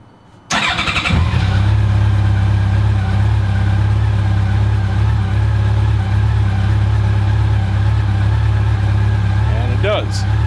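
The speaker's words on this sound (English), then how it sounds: "So let me start the bike." A motorcycle fitted with a dashcam starts abruptly after a brief quiet moment, then settles into a steady, loud idle with a low rumbling drone for the rest of the clip.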